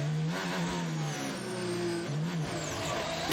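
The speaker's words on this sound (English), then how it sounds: "It sounded like it had an extra downshift there." A Formula 1 car engine on track, heard faintly and from a distance, whines and shifts pitch as it downshifts, with rising and falling engine tones over steady background noise.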